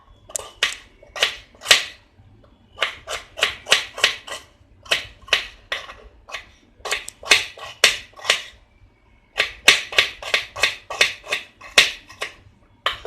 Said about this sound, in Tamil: இதை வந்துட்டு பொடியாக நறுக்கிக்கோங்க.